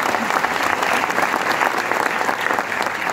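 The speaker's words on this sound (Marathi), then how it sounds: "आपल्याला एकदा हार्वेस्ट सक्सेस अकॅडमीसाठी जोरदार टाळ्या." Audience applause for Harvest Success Academy at a business seminar: a sustained, dense roar of many hands clapping, loud and even from start to finish, with faint voices blended underneath.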